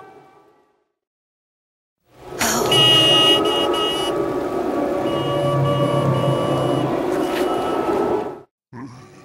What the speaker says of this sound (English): Like a horn!